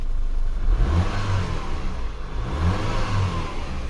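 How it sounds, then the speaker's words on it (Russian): A 2.0 TFSI engine in an Audi A6 C7, running cold after a high-pressure fuel pump replacement, is revved twice in quick swells over its idle, close and fairly loud. "Можно погазовать даже."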